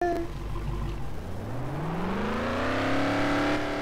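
Car engine in the Roblox game Driving Empire, revving and accelerating with a rising whine that climbs steadily in pitch, loud and continuous, with no clear crash impact.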